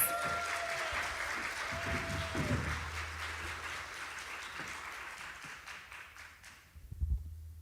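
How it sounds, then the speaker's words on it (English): Audience applause greets two literacy nonprofit directors at a live community event, a dense steady clapping that carries for about seven seconds before thinning out, with a few faint whistles early on. "Please help us welcome to Buzz Live the former executive director of Blue Ridge Literacy, Russ Merritt"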